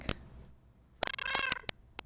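A cat meows several times in quick succession, fairly close, with a couple of sharp knocks before and after.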